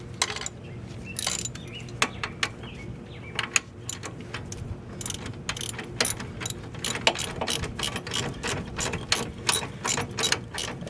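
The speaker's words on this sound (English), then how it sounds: "I use a 3/8 ratchet to put it back in." A 3/8-inch ratchet turns the brake caliper bolts on a 2000 Jeep Grand Cherokee during a front brake job. It gives bursts of quick, close metallic clicking with short pauses between strokes.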